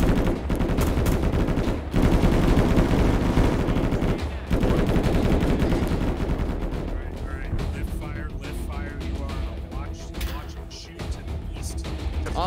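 Belt-fed machine gun firing cyclic during a special-forces platoon assault on an insurgent encampment, long sustained rapid bursts, loud and close, tapering toward the end with voices talking over the fire.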